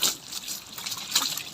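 Water gushes steadily into a fish tank, a continuous splashing rush with slight surges, fairly close.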